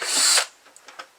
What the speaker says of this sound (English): go ahead and drill the other two